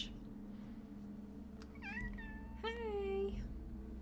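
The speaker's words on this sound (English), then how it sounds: "Well, you're the one meowing." A pet cat close by gives two drawn-out meows in the second half, the later one longer and rising, against a constant low electrical hum during a Fallout 1 play session.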